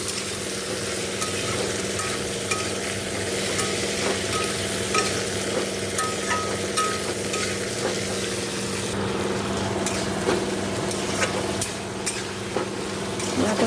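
Spices sizzling and frying in a pan for a fish curry, with steady close stirring scrapes over a continuous sizzle and a low hum throughout, no voices.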